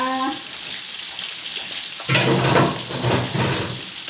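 Mackerel frying in a pan, a quiet bubbling sizzle that suddenly grows louder and crackles after a brief tone at the start, close and continuous.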